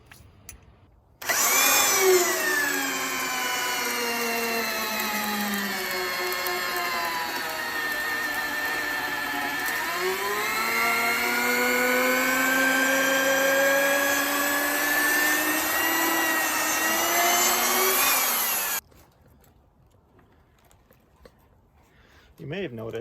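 A large power drill fitted with a wood auger bit bores into a wooden porch post, a loud sustained whine that dips in pitch as the bit bites deeper, then recovers before cutting off abruptly.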